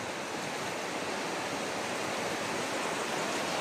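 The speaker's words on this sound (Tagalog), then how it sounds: "Lumalakas na talaga yung tubig." Floodwater rushes around a flooded house, a continuous loud broadband roar of churning water without pause.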